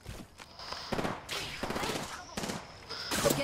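Gunfire in the Apex Legends game, several sharp bursts of shots and rapid fire in quick clusters, loud and close, with a player's voice talking between and over the shots.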